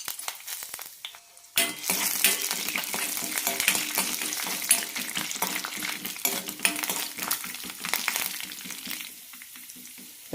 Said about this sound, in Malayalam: ആദ്യം തന്നെ കടലപ്പരിപ്പും നിലക്കടലയും വറുത്തെടുക്കാം